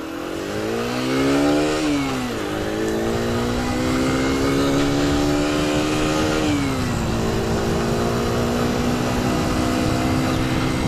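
A Sinnis Max2 125cc motorcycle engine accelerating in traffic, its pitch climbing through the gears with a brief dip at a shift, loud and close throughout.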